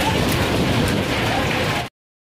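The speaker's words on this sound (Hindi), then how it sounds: "बारिश चालू हो गई है। तो आ गई बारिश, दर्शन लगभग खतरनाक बारिश और हवा तेज आ रही" Heavy rain with strong wind at the Vaishno Devi shrine makes a loud, steady, dense roar and hiss throughout, then cuts off abruptly near the end.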